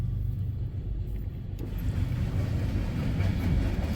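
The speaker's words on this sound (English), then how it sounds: "Train coming on the Toledo line." A BNSF freight train rumbles past nearby on the Toledo line, a steady low roar and rattle of wheels that swells slightly as it goes by, with no voices.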